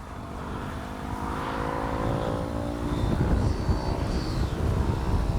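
A Freewing Avanti S 80mm electric ducted-fan RC jet comes in to land on a grass runway, its steady whooshing fan whine rising slightly as it nears, with continuous rumbling rolling noise beneath.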